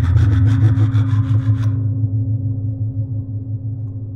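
Rhythmic back-and-forth saw strokes in the video game The Silent Age, about eight rasping pulls that stop partway through, leaving a low steady hum underneath.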